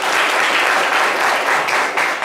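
A studio audience bursts into loud, sustained clapping on a French-language talk show, a dense even wash of many hands with no talk over it.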